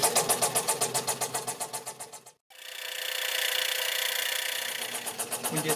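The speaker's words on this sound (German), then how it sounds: "Die Säge läuft bei 600 Hüben." A scroll saw cutting acrylic (PMMA) at 600 strokes per minute buzzes in a fast, steady stroking rhythm, stops briefly, then starts again and runs continuously with a high cutting whine.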